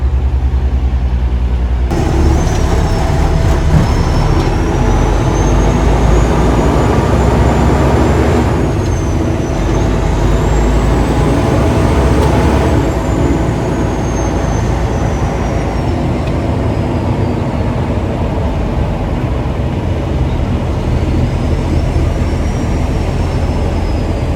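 On-call tow truck with its tow light on and a load secured, driving down the road, steady loud engine and road rumble heard from inside the cab for the whole stretch.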